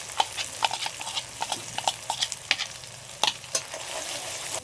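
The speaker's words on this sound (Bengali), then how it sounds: "এবার যে টক দইয়ের সাথে যে মশলাটা বানিয়ে রেখেছি এটা পুরোটাই দিয়ে দিচ্ছি" Yogurt masala for malai chicken fries under a low sizzle while a spatula strikes and scrapes the pan in sharp, irregular clacks, fairly close, with no talking.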